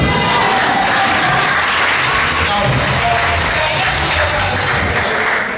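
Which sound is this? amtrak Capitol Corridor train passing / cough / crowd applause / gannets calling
crowd applause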